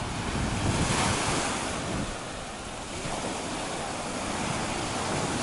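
Ocean surf washes onto a Hawaiian shore with a coral bottom, a loud continuous roar of breaking waves mixed with gusting wind noise across the microphone, with no speech.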